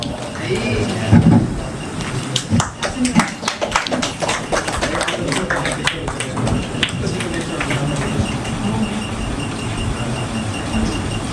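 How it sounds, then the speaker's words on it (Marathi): A crowd claps at a felicitation ceremony honouring a guest at a transgender welfare event, with dense, uneven applause running throughout and voices mixed in. "सर्वांनी जोरदार टाळ्या वाजवायच्या"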